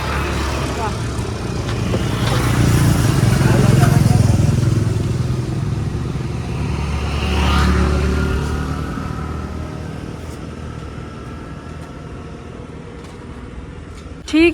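A scooter climbing a steep road in Goa, its engine droning and swelling loudly for several seconds before easing into a steadier hum.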